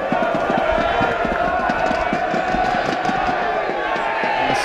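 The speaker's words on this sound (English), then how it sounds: "It's an awesome crowd, I think, if anything, getting noisier behind that goal." Football crowd behind the goal at an FA Vase quarter-final, AFC St Austell against Ascot United, roaring and chanting in a loud, steady mass with rhythmic clapping or stamping.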